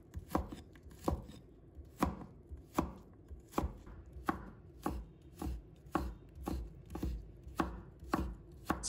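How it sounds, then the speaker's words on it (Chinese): A knife slices onion into thin strips on a cutting board, making crisp, evenly spaced chops about one per second, close and clear with no talk. "然后切成丝"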